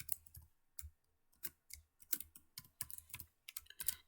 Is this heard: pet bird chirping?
no